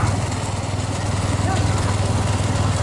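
Several motorcycle engines drone steadily close by, following a bullock cart race near Vilathikulam, Thoothukudi, while people talk over the noise.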